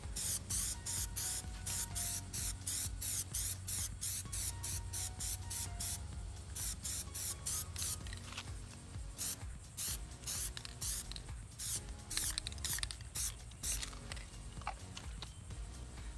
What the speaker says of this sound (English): Now time to hit it with the Plasti dip.